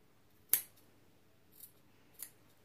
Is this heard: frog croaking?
no